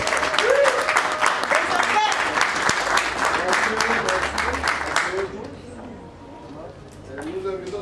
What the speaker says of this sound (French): Applaudissez pour les parents.